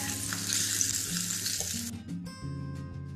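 Chopped ginger and green chili fry in a pan with a bright, steady sizzle, then the hiss drops away and clinks and tonal kitchen sounds follow.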